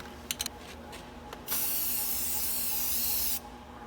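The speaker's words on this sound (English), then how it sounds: "Now we're gonna prime it and then we'll paint it" Spray primer hisses onto a sanded rusty spot on a truck in one sustained burst of about two seconds, preceded by a few short clicks and a brief test puff, close and loud.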